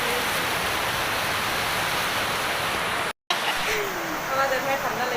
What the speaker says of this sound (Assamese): বৰষুণ দি আছে যে ঠাণ্ডা লাগিছে।